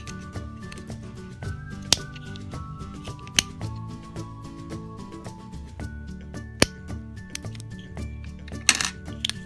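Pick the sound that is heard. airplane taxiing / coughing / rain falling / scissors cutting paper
scissors cutting paper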